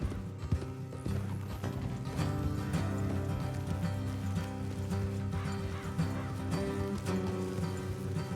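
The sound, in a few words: horses in a video game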